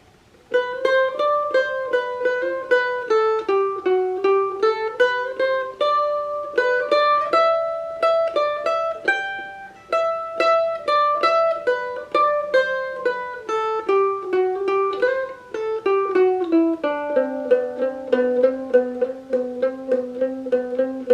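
Mandolin plays the first part of a song slowly, a steady run of bright picked single notes with ringing overtones, close and clear with no talking.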